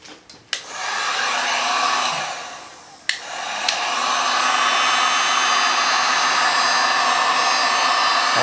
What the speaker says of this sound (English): grab my heat gun.